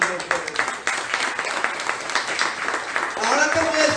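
A church congregation applauds during a Spanish-language sermon, a thick wash of clapping that runs under a preacher's voice, which continues talking over it throughout.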